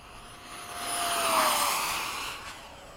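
Hawk or F-16 jet flying low along a runway during slow touch-and-go passes, a steady roaring whine that swells to a peak midway and then eases off, heard alone without talk.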